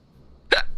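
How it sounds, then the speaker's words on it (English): A single short hiccup in the Final Fantasy XIV video game, sharp and close, sounding once after a quiet pause. "I hear the hiccups."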